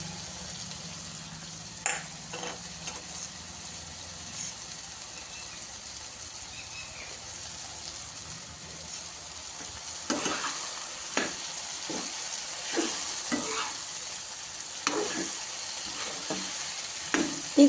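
Crushed garlic sizzling in hot oil in a pan while making a Kathiyawadi sev galka curry, a steady faint frying hiss with intermittent scraping clicks of a spoon stirring, growing busier toward the end.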